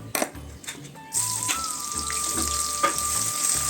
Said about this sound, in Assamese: পিঁয়াজটো ভালদৰে ভাজি ল'ম।